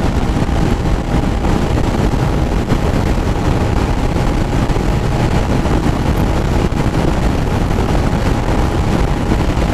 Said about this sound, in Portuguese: Tá ventando muito forte.